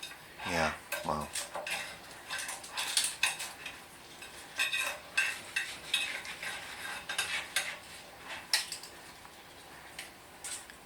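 A knife cutting into a hot pumpkin and feta pie on a dish, giving a series of sharp clinks and scrapes of metal against the dish in irregular bursts, fairly close, with no clear speech.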